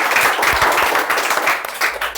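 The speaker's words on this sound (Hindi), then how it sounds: "आपका एक बार इनके लिए ताली बजा दीजिए आप लोग" A crowd claps steadily throughout, a dense, even applause with no voices standing out.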